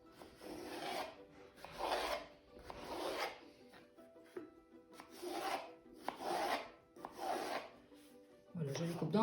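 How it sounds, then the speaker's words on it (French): Knife slicing courgettes into small cubes on a cutting board, heard as repeated rasping cutting strokes in bursts of about a second, with brief pauses between them. "Je commence par couper les courgettes. Donc on va les faire en petits cubes."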